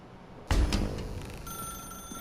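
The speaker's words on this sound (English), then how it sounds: "Now pick up the phone." Telephone ringing in the video game The Stanley Parable Ultra Deluxe: a sudden bright ring bursts in after a short quiet, then a sustained electronic ringing tone continues alone.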